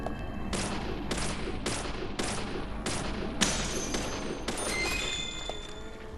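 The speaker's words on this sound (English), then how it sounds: "The one gunshot." Gunfire in the video game Deadly Premonition, a series of loud sharp shots spaced about half a second apart, each with an abrupt attack over a constant background of game ambience.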